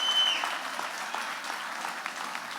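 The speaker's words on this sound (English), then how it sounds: "I'd like to give us a round of applause for Paulette" An audience at a pre-cruise gathering aboard a cruise ship applauds a helper, a dense, even patter of many hands clapping at moderate volume throughout, with no one speaking over it.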